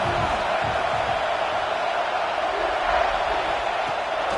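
A football stadium crowd roars steadily throughout, a dense wash of cheering and noise from a large gathering at a game, with no clear breaks.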